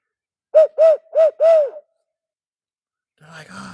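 Four evenly spaced, clear owl-like hoots sound close by in quick succession, likely a person imitating an owl call, followed by silence and then a faint brief voice-like sound.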